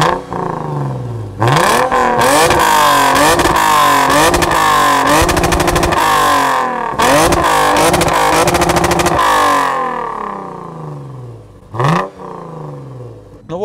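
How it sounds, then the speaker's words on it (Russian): A Lexus GS350 AWD's 317-horsepower engine revs up repeatedly with a deep, booming exhaust that rises in pitch on each pull, drops away, then surges again, loud and close. "А когда начинаешь разгоняться, он прям так басит."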